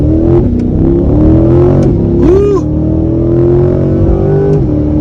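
A 2022 Chevrolet Corvette C8 1LT Z51 pulls onto a multi-lane highway under firm throttle without flooring it. Its engine note climbs loud and close through the run, and a voice whoops partway through.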